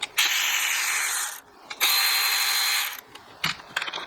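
Ratchet wrench loosening 10 mm nuts on a Volkswagen Golf R engine during spark plug service, giving close, fast clicking pawl runs in two long sweeps followed by a few short strokes, with no voices.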